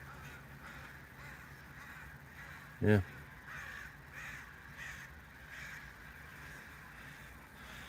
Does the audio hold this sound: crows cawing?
yes